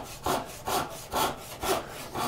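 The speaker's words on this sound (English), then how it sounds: "so I'm just going to use the side of the saw." Hand saw cutting wood for a corner bridle joint, five rhythmic rasping strokes at a steady pace, close and clear with no talk.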